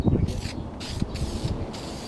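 A spray gun applies basecoat paint to a Kawasaki Ninja motorcycle tank in short hissing bursts, three distinct sprays separated by brief pauses, close and fairly loud.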